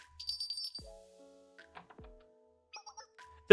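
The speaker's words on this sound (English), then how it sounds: "She just rang a bell." A hand bell is rung to summon a servant, giving a couple of brief clear tonal strikes with ringing tails amid light clicks and soft sounds, fairly close and not loud.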